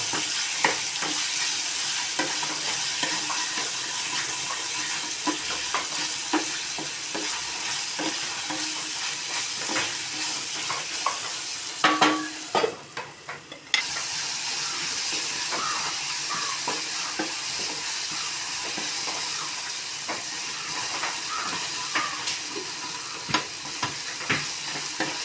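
Ripe tomatoes and curry leaves fry and are stirred in a pan for a jackfruit masala, giving a continuous close sizzle with frequent scraping stir strokes and a brief lull partway through.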